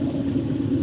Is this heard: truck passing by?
yes